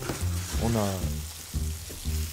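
Pine nuts fry in a pan alongside filet mignon, giving a dense, continuous sizzle close by, with a voice talking over the crackling.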